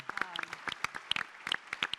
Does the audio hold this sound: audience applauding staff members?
yes